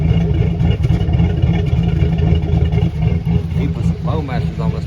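A Chevrolet Silverado 5.3 V8 with an aftermarket cam and Flowmaster exhaust with turndowns idles loudly and up close with a steady, lumpy low rumble, while a voice talks over it.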